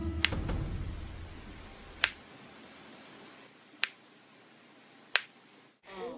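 Sharp joint clicks from a knee, four isolated dry snaps spaced a second or two apart, close and crisp against a quiet background.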